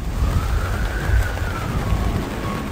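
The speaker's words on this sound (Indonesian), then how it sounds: "hujan deras disertai angin kencang kembali melanda" Heavy rain falls with strong wind on a mountainside at dusk, a dense steady roar with low gusty rumbling and a faint whistling tone drifting through, continuous and close.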